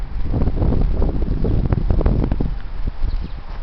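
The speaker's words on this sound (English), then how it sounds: "The heavy wind. Here it is." Heavy wind roaring steadily against the microphone, a dense low rumble with buffeting gusts and scattered rattles throughout.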